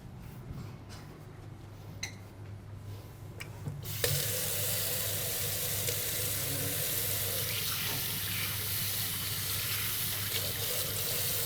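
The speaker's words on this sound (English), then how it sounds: "Let me just wash my hands again." Running kitchen tap water while hands are washed, with a quiet room and faint clicks at first, then a sudden steady loud gush of water from the faucet that continues to the end.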